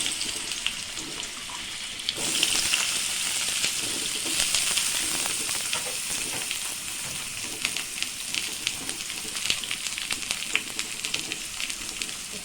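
Small-cut potato pieces fry in hot oil, a loud steady sizzle that swells after the potatoes go in and crackles continuously without talk.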